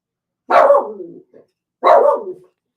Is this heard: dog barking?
yes